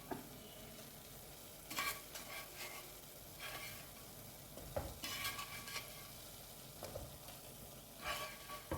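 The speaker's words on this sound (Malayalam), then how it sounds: "ഇനി ഇതിലേക്ക് ഫ്രൈ ചെയ്ത് വെച്ചിരിക്കുന്ന മീൻ നമുക്ക് ഓരോ കഷ്ണമായിട്ട് അങ്ങനെ ഇട്ട് കൊടുക്കാം." Fried fish pieces sizzle in masala in a pan, a quiet, steady frying hiss broken by repeated scraping strokes of a spoon stirring and turning them.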